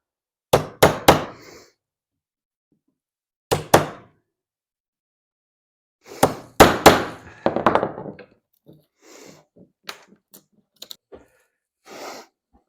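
Sharp knocks of a hammer striking a chisel to free the panel of a wooden cabinet door, struck in quick clusters of two to four with pauses, close and loud, followed by softer scraping and small taps.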